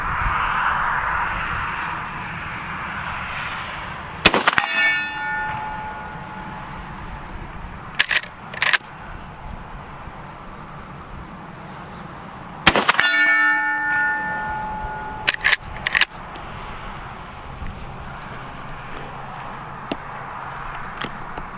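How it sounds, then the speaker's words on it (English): A Marlin 1895 Guide Gun fires .45-70 rounds: several sharp, loud reports spaced seconds apart, some in quick pairs, each with a ringing tail over quiet outdoor background. "I am a little bit nervous about shooting this because I've never shot 4570 before"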